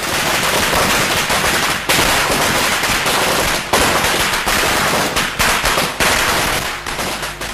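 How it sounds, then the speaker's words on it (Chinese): A recording of firecrackers plays to newly hatched quail chicks, a loud, dense, nonstop crackle of rapid bangs with only brief breaks and no voices. "最后我们直接用鞭炮声看看"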